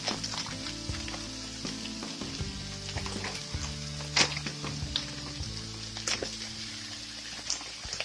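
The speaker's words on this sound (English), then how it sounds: "Keep your temperature still at medium high as we cook these vegetables down until they're not frozen." Frozen vegetables sizzle and crackle steadily in an oiled Le Creuset pan over medium-high heat for a frittata, with occasional stirring scrapes and brief louder pops, no voices.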